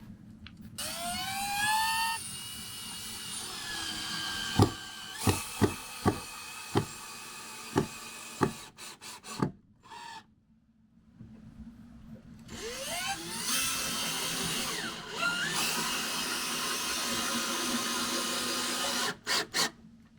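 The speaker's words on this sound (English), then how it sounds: "So I'm going to start screwing those in." A power drill drives screws into wooden step boards, with whirring bursts of the motor rising in pitch, a run of short sharp knocks in the middle, then a longer steady drilling stretch near and fairly loud.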